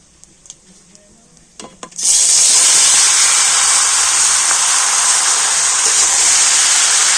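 Whole spices frying in hot oil in a pan for Bengali tomato pickle, a few light clinks and then a loud, steady, broad sizzle that continues without a break.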